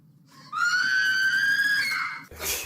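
A woman in the series Torchwood lets out a sudden shrill scream on waking, one sustained high wail lasting under two seconds, followed by a brief noisy thump.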